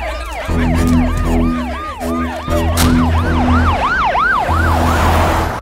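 An ambulance rushing a heart-attack patient to hospital wails loudly nearby, its siren sweeping up and down in rapid repeated cycles over a low, steady horn-like drone and traffic rumble.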